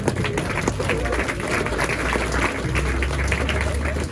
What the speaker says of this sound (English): let's have a big round of applause for Norick, Brady and Jaimon